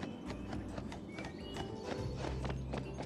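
In the Barbie Wild Horse Rescue video game, a horse's hooves clip-clop in a steady rhythmic patter, and a neigh rises over the steps. The sound is fairly close and continuous, with no talking.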